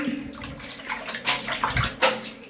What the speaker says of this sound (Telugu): ఇప్పుడు స్నానం చేయాలి నేను నీళ్ళు పట్టుకున్నా